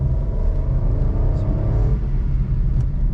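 A 2021 Suzuki Alto VXR/VXL 660cc engine revs up in first gear, a steady low rumble and drone that climbs and holds, loud and close throughout with no pauses.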